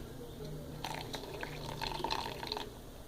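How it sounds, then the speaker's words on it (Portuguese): Warm water is poured onto gelatin in a container while making slime, a faint splashing trickle lasting a couple of seconds over quiet room noise. "E jogar a água morna."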